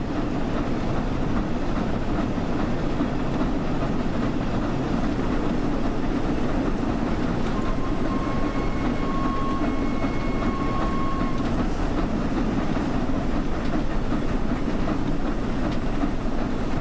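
Train rolling on rails in Train Sim World at around 32 to 40 mph, a steady loud rumble of wheels and running gear with faint rhythmic clatter and a brief tonal whine midway, no talking.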